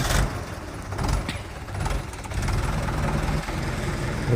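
A motorbike engine running close by at a rice paddy field, a low rumbling drone that swells slightly a few times before settling.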